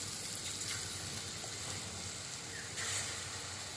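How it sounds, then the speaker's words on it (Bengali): Chickpea flour batter drops deep-fry in oil in a kadai, giving a faint, continuous sizzling hiss with small crackles and a few slightly louder bursts. "এই বেসনটুকুনি দিয়ে এরকম করে কিছু ঝুড়ো বানিয়ে নেব"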